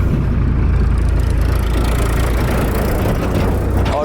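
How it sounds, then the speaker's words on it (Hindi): A tractor engine rumbles steadily close by, a loud, low, continuous drone with no other sounds over it. "क्या यहाँ पर भी ट्रैक्टर आ रहे हैं"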